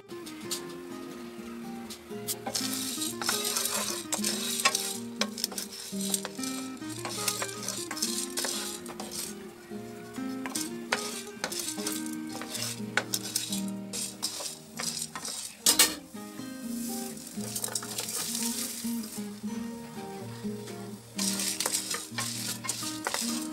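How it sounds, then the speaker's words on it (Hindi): Steady clatter and scraping of a utensil stirring curry leaves and tamarind roasting in a pan over a continuous low sizzle, with dense rhythmic rattling throughout and no talking. "अब हम इसको अच्छे से रोस्ट कर लेंगे"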